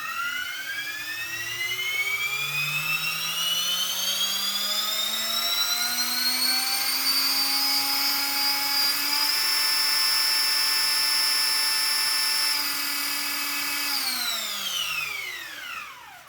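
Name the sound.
RC helicopter motor spooling up with reversed Hobbywing ESC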